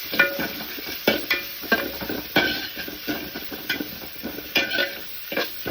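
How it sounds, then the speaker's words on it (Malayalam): Garlic, green chilli and curry leaves sauté in hot oil with onion, giving a steady sizzle broken by repeated scraping stirs of a spoon against the pan, close and alone. "വെളുത്തുള്ളി ചതച്ചത്, പച്ചമുളക്, കറിവേപ്പില നല്ല പോലെ വഴറ്റാം"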